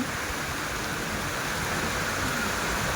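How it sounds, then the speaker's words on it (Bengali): Heavy rain pours over Dhaka city in a dense, unbroken hiss that stays loud and even throughout, with no voices. "ভরপুর বৃষ্টি হইতেছে"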